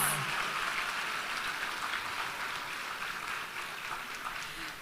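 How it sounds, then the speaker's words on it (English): An audience at an advancement ceremony claps in a steady, even roar of applause that holds throughout and tapers slightly toward the end. "Give yourselves a big round of applause."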